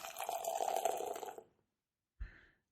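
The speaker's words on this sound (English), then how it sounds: "I'm going to pour some out for Little Beaver." Beer is poured out in a steady splashing, gurgling stream for about a second and a half, then stops; after a short silence comes a single soft thump or splash. Close and fairly quiet, with no talking.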